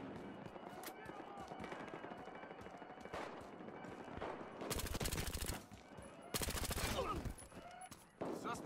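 Machine gun fire in Battlefield Hardline blazes in loud, rapid bursts, two long sustained strings and a shorter one, over quieter background shots and game noise.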